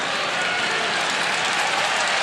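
Dense, steady applause and cheering from a basketball arena crowd during an NCAA men's game, loud and continuous with no break.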